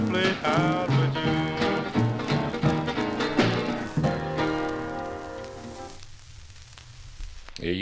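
A 1954 doo-wop record plays from a 45 on vinyl: a dense band-and-vocal passage that winds down to its final notes and then fades into faint surface noise.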